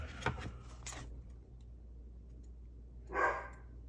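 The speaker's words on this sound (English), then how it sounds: "The dog down there barking." A dog barks downstairs in a quiet house, a faint, distant bark or two early on and then a single fuller bark near the end, separated by near silence.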